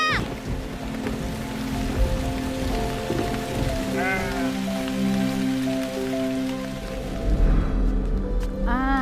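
Steady rain falls outdoors in a rural spot near goats, a broadband wash with people talking over it and a few brief tonal sounds.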